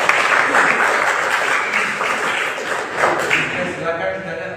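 Classroom clapping, a group applauding together with a dense patter of many hands, moderately loud and steady, fading slightly toward the end with voices mixed in.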